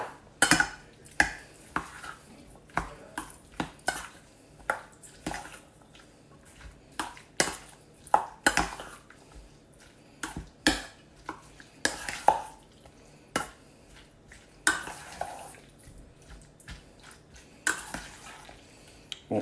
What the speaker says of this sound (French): Hop, et on va venir mélanger tout ça.